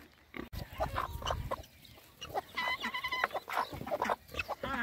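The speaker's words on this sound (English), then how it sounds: "A kuni kuni pig" Kunekune pigs grunt and snuffle close by at a farm near Rotorua, short repeated grunts mixed with other livestock calls and quiet background noise.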